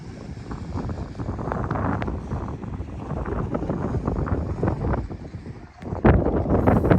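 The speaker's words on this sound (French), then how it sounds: "Il y a beaucoup de vent." Strong wind roars and buffets the microphone continuously, with a sharper gust near the end; a voice speaks faintly underneath.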